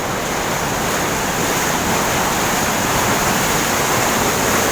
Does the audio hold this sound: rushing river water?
yes